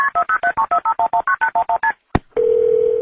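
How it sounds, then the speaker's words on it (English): Fourteen quick telephone keypad tones punch out a number for an emergency 911 call, each a short two-tone beep in steady rhythm, followed by a click and then a continuous steady tone. "grabbed her phone and dialed 911"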